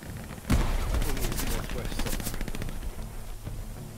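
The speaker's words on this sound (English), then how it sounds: "That's a grenade." Grenade blast and gunfire in Hell Let Loose: a heavy thump early on, followed by sustained rapid gunshots and scattered cracks, loud and close, with voices talking underneath.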